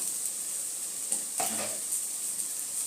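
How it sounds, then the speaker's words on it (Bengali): Cauliflower paturi frying in a pan gives off a steady hiss and sizzle, broken by a brief clink of a utensil and light stirring partway through. "দেখুন আমার সুন্দরভাবে লাল লাল করে কপিটা ভাজা হয়ে গেছে"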